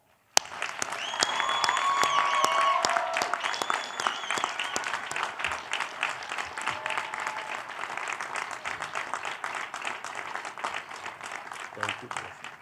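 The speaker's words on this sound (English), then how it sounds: "Please join me in thanking Dr. Chirozzi and her team with a well-deserved round of applause" Audience at a university graduation ceremony breaks into sustained applause, loud at first then settling into steady clapping that carries on for several seconds before tapering off.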